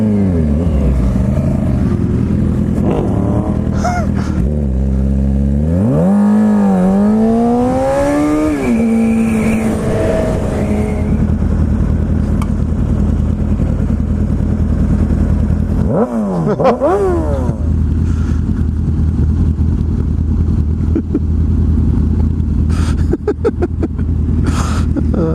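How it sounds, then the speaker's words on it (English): Motorcycles and other vehicles pass on a beach road, engines rising and falling in several loud sweeping pass-bys over steady wind and road rumble, with revs climbing sharply on one bike. "A lot of bikes out today, if you haven't noticed."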